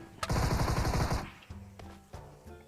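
A weapon in a video game fires a rapid automatic burst of about a dozen shots lasting roughly a second, loud and close, followed by a few scattered fainter clicks and thumps.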